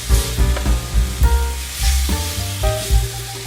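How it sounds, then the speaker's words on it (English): Cuban-style pork sizzles loudly in a hot pan, a steady crackling fry with repeated clunks and scrapes as pieces are turned and moved, close and continuous with no talking. "put our pork back in that's been draining, and we let them cook"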